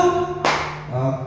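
A single sharp burst of group clapping on cue from participants in a teacher training session lands once, sandwiched between stretches of steady tonal background sound.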